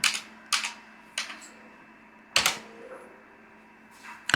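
Several separate sharp clicks of keys being pressed on a computer keyboard, spaced irregularly about half a second to a second apart, near and crisp against a quiet room hum.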